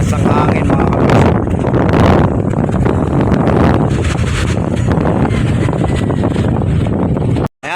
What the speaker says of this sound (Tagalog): Lakas ng hangin mga kabising.